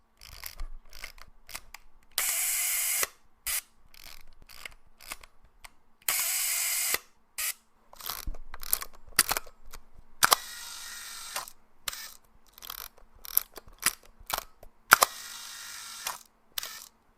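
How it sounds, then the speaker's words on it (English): A Nikon FM film camera's shutter fired over and over, each release a crisp mechanical snap of the mirror lifting and the first curtain opening, close and loud, with bursts of film-advance ratcheting between the shots. "in the FM, when I fire the shutter release, you can hear 2 distinct sounds from the mirror lifting and the first curtain opening"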